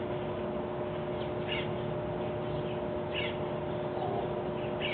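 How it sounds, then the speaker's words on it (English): Birds call outdoors in hot weather, a few scattered, moderately distant caws and chirps sounding over a steady low hum, with no talking. "You can hear the birds."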